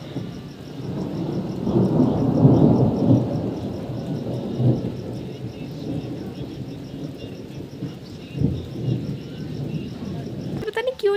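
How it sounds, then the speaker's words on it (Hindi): Deep rolling thunder rumbles through a heavy rainstorm, swelling loudly around the second and third seconds and then fading into a steady wash of rain with further low rumbles near the end. "ये देखो बिजली भी कड़क रही है आसमान में"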